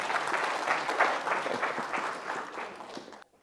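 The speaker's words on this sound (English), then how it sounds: "so can you give a big clap for the last time's work?" Classroom applause from students during an air quality course lecture, a dense patter of clapping that holds steady for about three seconds before cutting off abruptly.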